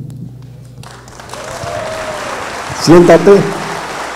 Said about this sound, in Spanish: Ese aplauso es para ti, Camila.